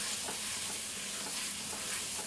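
Vegetables coated in paprika, cumin and cayenne are stirred in a hot pan, giving a steady close sizzle with scraping stir strokes throughout, no talking.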